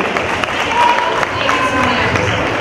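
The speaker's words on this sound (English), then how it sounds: "let's give her a big round of applause and welcome" An audience at a school anti-bullying assembly applauds steadily to welcome a speaker, a dense, continuous wash of clapping lasting the whole moment, with some voices mixed in.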